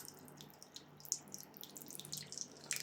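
Water splashes and drips in a kitchen sink as a cat bathes in it, with faint, intermittent small splashes and trickles heard fairly close and quiet, and no talking.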